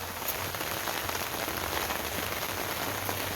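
Rain falls steadily around an off-grid tiny cabin on a cold day, a dense, even patter on surfaces that stays close and continuous without pause.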